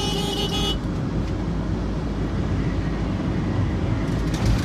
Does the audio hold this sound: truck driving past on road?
yes